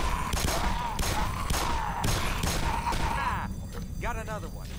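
Gunfire in the video game Black Mesa: a rapid series of sharp bursts about every half second, loud and close, followed by a wobbling electronic sound as the shooting stops.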